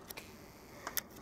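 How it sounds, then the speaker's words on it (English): A camera is handled and moved, giving a few faint, sparse clicks and taps in quiet surroundings with no talk. "I'll just be messing around with the camera, playing with it, moving it"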